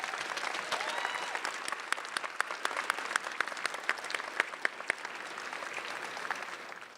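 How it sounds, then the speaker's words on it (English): Audience applause fills a graduation ceremony hall, a dense steady clapping from a large crowd with a few sharper individual claps standing out, lasting several seconds before tapering off at the end. "Let's give them a round of applause."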